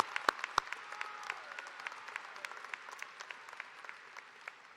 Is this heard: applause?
yes